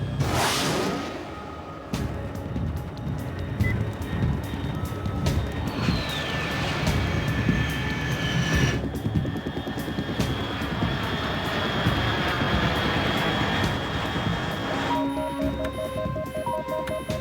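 Fast unidentified aircraft at 30,000 feet in Metal Gear Solid 3, a loud continuous engine roar sweeping past overhead with whooshing rise and pitch shifts, steady and close, no voices.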